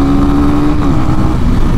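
Honda CB300R motorcycle engine blipping its throttle on a downshift while cornering: a brief, close, loud rev rising out of a steady engine drone.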